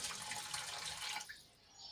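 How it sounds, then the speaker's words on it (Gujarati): Water splashes and swishes in a bowl as lentils are rinsed with hot water, quiet and brief, tapering off near the end. "એને હવે આપણે ગરમ પાણીથી ધોઈ લેશું"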